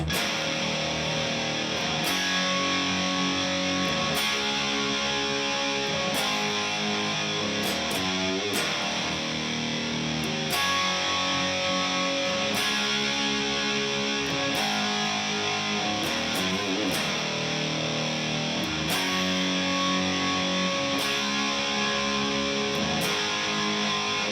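A heavily distorted electric guitar plays a dense, repeating riff, with brief breaks between phrases, loud and sustained throughout.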